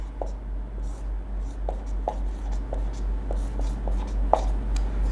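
Pen writing physics notes on paper during a lesson, a series of light, evenly spaced scratches and taps over a steady low hum.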